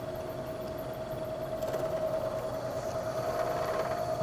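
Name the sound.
milling machine running, cutter squaring a block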